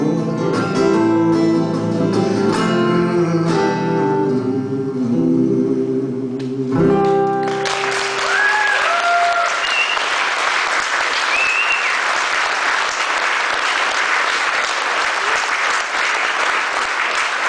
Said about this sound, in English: Thank you for doing that clapping.